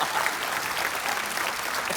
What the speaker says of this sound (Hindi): जोरदार तालियां लेने के लिए